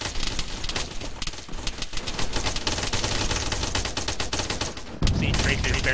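Airsoft guns fire at an outdoor skirmish game in rapid, continuous volleys of sharp clicking pops at moderate distance, with a brief louder burst near the end.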